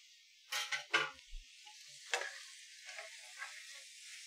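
Zucchini boats cooking in a pan on the stove give off a faint, soft sizzle, with a few brief louder bursts of scraping and spitting near the start and middle.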